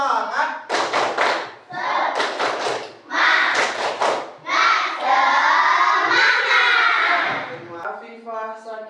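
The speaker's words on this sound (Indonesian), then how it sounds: "Semuanya ikuti Bapak. Tepuk semangat." A class of children doing the rhythmic tepuk semangat clapping chant, bursts of unison shouting mixed with hand claps in a steady pattern, loud and close, with a teacher leading.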